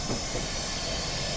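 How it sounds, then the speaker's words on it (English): A train coasts along the rails in Train Simulator 2015 on the USA route from Irvine to Oceanside, Pacific Surfliner. A steady, close rumble mixes with a broad hiss of wheels on the track, with no voices. "I'm going to continue to allow the train to coast along here"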